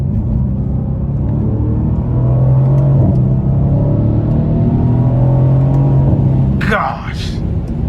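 A 2018 Mercedes-AMG C63 engine rumbles loudly and steadily as it downshifts, holding a deep droning tone before a brief rising whoosh near the end, heard from inside the car.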